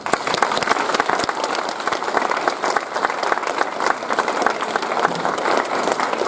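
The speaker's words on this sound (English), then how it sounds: "please round of applause for Mana" An audience at a Rolleston College Year 9 prize giving applauds, a dense and steady round of clapping from many hands that holds at full strength for the whole stretch, with no voices over it.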